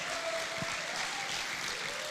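Audience applause for the kids in a church youth service: steady, fairly faint clapping from a crowd, continuous for a couple of seconds.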